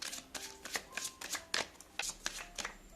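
Oracle cards being shuffled by hand, a series of quick, close papery riffles and slaps in an irregular rhythm, with no talking.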